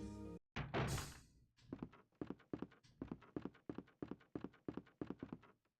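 A locked door rattled in the Resident Evil video game: after a couple of louder opening knocks, a quiet run of about a dozen evenly spaced wooden thunks follows as the handle is tried again and again.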